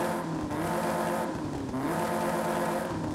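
A Mini Cooper engine in Forza Horizon 5, fitted with a racing exhaust, revs continuously, its pitch climbing in repeated sweeps, loud and steady with no voices.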